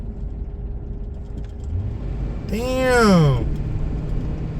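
A car passes by up close, its engine tone swelling and then bending downward as it goes, over steady road rumble, with a man exclaiming loudly as it passes.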